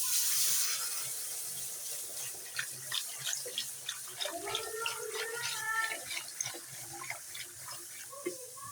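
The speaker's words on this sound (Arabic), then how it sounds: "طبعا اللبن ما يكونش سخن، اللبن يكون بارد علشان ما يكلكعش معانا" Cold milk pours into a pan of béchamel sauce for Egyptian macaroni béchamel, making a close, continuous liquid stream with bubbling and splashing that softens toward the end.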